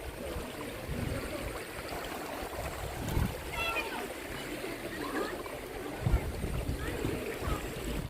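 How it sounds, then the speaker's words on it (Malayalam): River water running near a bridge, a continuous broad rushing flow with a few small splashes, close and steady throughout, with no speech. "നമ്മളിവിടെ ഒരു പുഴയിലെത്തിയിട്ടുണ്ട്."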